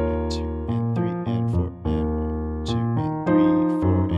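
Piano plays the bass pattern of a song, close and clear, with deep sustained low notes and syncopated chords in a steady repeating rhythm and no talking.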